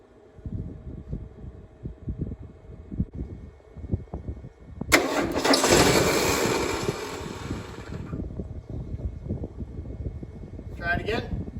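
A 1978 Ford F-150 that sat unused for 28 years is cranked and revved, a rough engine roar that bursts in midway and holds for several seconds before settling, with voices nearby.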